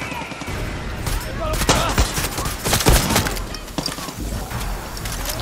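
Rapid gunfire in Far Cry 6, dense bursts of shots and cracks cluttered together over several seconds, loud and close, with a player talking in between.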